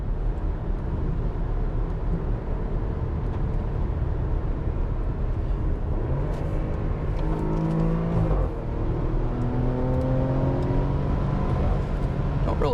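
A 2017 Porsche Macan S on the move, its exhaust droning steadily and then sweeping through rising and falling engine tones as it downshifts and pulls again, heard from inside the cabin as a continuous close rumble.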